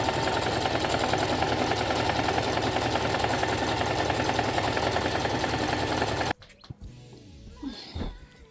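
A sewing machine stitching a stretchy fabric fitted long dress, running as a steady rapid mechanical whir close by for about six seconds, then stopping abruptly, followed by faint handling noises.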